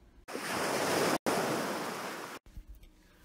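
Sea waves surge over a dike on the Île de Ré, a loud rushing wash with wind noise, broken by two abrupt cuts and ending in quieter surf.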